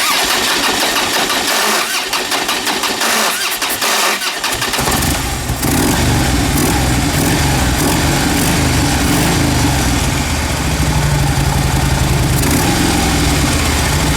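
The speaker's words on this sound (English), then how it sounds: "We're going to start it up." A Harley-Davidson motorcycle that will not idle and stalls when the throttle is released, probably flooded, is cranked over for a few seconds and then catches, settling into a loud, close, steady engine roar.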